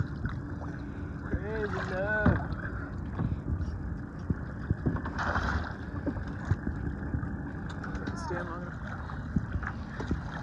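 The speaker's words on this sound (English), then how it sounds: "We're sailing right now." A sailboat moves across open water with wind buffeting the microphone and water washing steadily, while voices talk intermittently over the sound of the boat.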